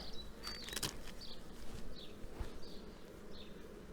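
Honey bees hum in a steady, faint drone inside a hive, with individual insects buzzing past now and then, no voices.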